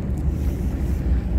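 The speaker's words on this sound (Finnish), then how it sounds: "Kone käyntiin vai ottaa pärinää kuuntelee ja ollaan merellä." Boat engine running out at sea, a low steady rumbling drone with wind buffeting the microphone, continuous and fairly close.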